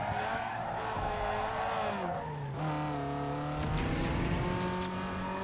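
A street-racing car in the video game Need for Speed Underground 2 brakes hard with tyre squeal on a circuit race, its engine whining and pitch dropping, then rising again, all at a steady, moderate level.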